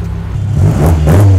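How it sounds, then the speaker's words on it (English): A vintage car at a St Moritz rally, a loud close engine rumble that revs up as it pulls toward the start line. "One by one, the vintage vehicles make their way to the start line."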